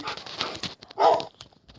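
Dogs in the video game Minecraft, heard as a few short, fairly close sounds, the loudest burst in the middle of the clip, set among other game noises.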